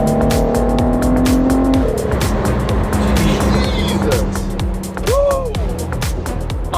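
A Ford GT supercar in third gear roars as it accelerates, a loud continuous engine drone with rising pitch and road noise, while people talk over it.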